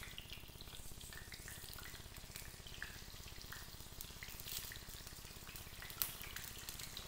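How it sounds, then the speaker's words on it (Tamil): Brinjal pieces dropped into plenty of hot oil for a jackfruit seed and brinjal gravy, a faint, continuous crackling sizzle with a small sharp pop near the end. "இப்போ நான் இதில் ஒவ்வொரு பிரிஞ்சாலாக நான் எடுத்து இதில்"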